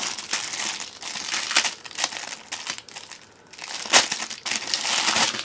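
New packaged pencil cases being unwrapped, with loud, close crinkling and crumpling of plastic packaging in repeated bursts and a brief tearing sound.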